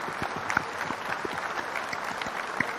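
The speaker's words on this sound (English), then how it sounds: "Give her a hand of applause." A crowd applauds at a live comedy show, a steady dense patter of many hands clapping close by for a few seconds with no talking over it.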